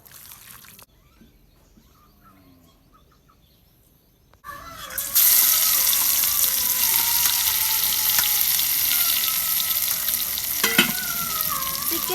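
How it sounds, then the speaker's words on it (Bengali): Chicken meat stir-fried in a pan of mustard oil for chicken pulao, quiet at first, then a loud continuous sizzle bursts up about four seconds in and keeps going with occasional stirring knocks. "আমি মাংসটা ভালো করে কষিয়ে নিতেছি"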